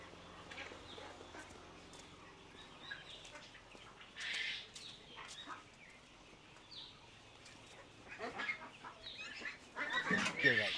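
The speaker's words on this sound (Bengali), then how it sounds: "এটা কি জাতের হাঁস পালতেছেন?" Pekin ducks on a farm give scattered quacks and clucking calls amid other poultry, fairly faint and intermittent, with people talking nearby and the noise building toward the end.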